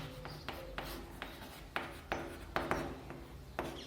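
Writing on a board or paper during a geometry lesson, heard close up as short scratchy strokes in an irregular rhythm with sharper taps between them.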